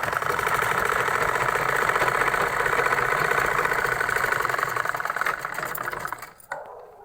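A sewing machine stitching a seam on a salwar belt, running in a fast, even mechanical whir close by before slowing and stopping near the end.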